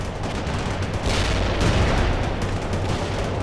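An artillery fire-support strike in the World in Conflict strategy game, a dense, loud roar of overlapping blasts and rumbling explosions that swells and continues without pause.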